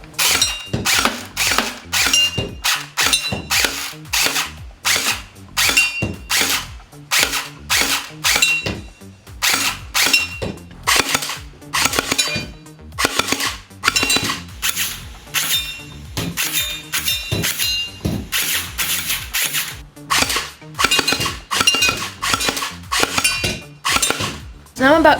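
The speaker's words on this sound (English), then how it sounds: "I'm gonna test out this gel ball blaster by shooting those can targets" HK416 automatic gel ball blaster firing at can targets from about ten feet, a long run of rapid mechanical clacks and rattling bursts with short gaps, close and loud, with a voice audible at points.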